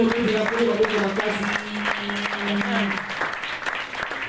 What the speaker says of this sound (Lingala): Est-ce qu'on peut acclamer très fort le Seigneur?